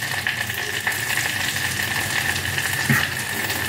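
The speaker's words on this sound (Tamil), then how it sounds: "இந்த வாழைப்பூ கொஞ்சம் நல்லா வெந்துக்கணும்." Chopped banana flower cooking in a pan, a dense, even sizzle filling the whole stretch with a faint stir near the end.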